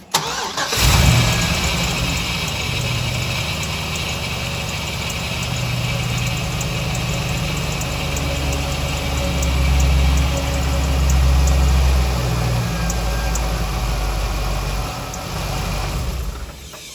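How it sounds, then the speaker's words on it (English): An LS-swapped Chevrolet Impala V8 cranks and catches within the first second, then settles into a steady, loud idle with a deep throbbing rumble that swells slightly mid-way before cutting off near the end. "now I'm gonna start it up again"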